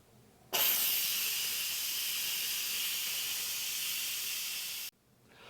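An Instant Pot pressure cooker on quick release lets out a single loud, steady hiss of steam lasting about four seconds, starting and stopping abruptly, with quiet on either side.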